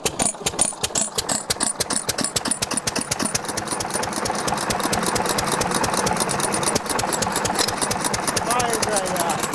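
An antique engine at the Skowhegan State Fair runs with the choke on, a loud, steady, rapid chugging beat close by that grows fuller after the first few seconds, with voices faintly underneath.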